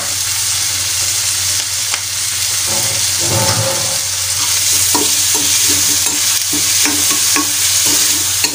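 Prawn masala frying in a pan, a loud continuous sizzle with utensil scrapes and knocks as the food is stirred, no voices over it.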